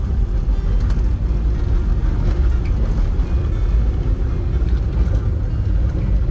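A Land Rover Defender cruises on the road in fifth gear, a steady low engine and road rumble heard from inside the vehicle, continuous and fairly loud with no talk.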